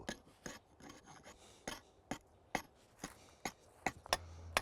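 Quiet rasping strokes of a blade or rasp stripping bark from a piece of wood for a tool handle, rubbing scrapes in an irregular rhythm with a few sharper chops near the end.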